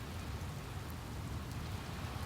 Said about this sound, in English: It begins with gentle drops.